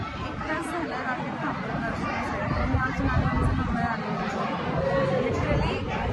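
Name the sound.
crowd chattering at Alandi temple aarti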